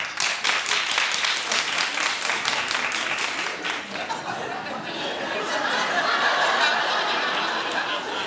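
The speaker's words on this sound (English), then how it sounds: "Clap if you do." A TV talk-show studio audience claps sharply for a few seconds, then the clapping fades into scattered laughter and murmuring chatter, with voices talking underneath.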